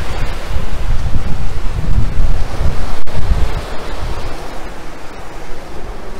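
Ocean waves roll in at Gesing beach in Gunung Kidul, Yogyakarta, a loud, steady roar of surf with strong wind buffeting the microphone and no voices.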